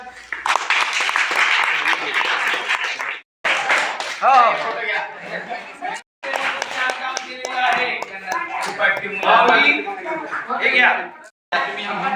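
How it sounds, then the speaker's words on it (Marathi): At a creativity club event showcasing disabled students' dance and drama in Killari, an audience claps in scattered, uneven bursts while people talk loudly over the claps. "Clap ray, clap."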